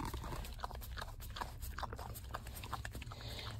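A senior English Springer Spaniel eats eagerly from a pup cup, giving close, continuous wet licking, lapping and chewing sounds in a steady busy rhythm against a low background rumble.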